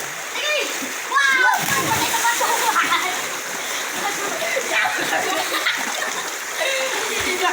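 Splashing water as people bathe in a cold spring, continuous splashes over a steady rush of flowing water, with children's voices and talk throughout.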